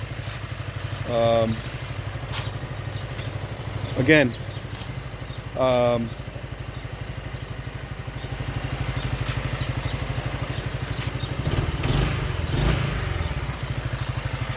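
A 2006 Yamaha Morphous 250cc maxi scooter idles with a steady, low, fairly quiet engine throb throughout, while someone talks over it in several short bursts.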